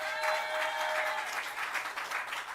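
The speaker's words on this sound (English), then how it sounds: "let's give them a round of applause" Audience applause at a UNC political cottage meeting in Couva North, a dense, steady round of clapping from a crowd, with no talk over it.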